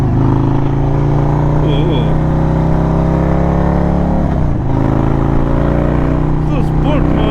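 An Indian Roadmaster Dark Horse 116 motorcycle in sport mode pulls hard with a loud, deep, continuous engine roar and rising rev tones, heard close with wind noise and faint speech mixed in.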